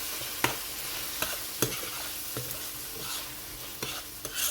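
Minced garlic fries in a pan with a soft steady sizzle, broken by several sharp scraping clicks as it is stirred at irregular intervals.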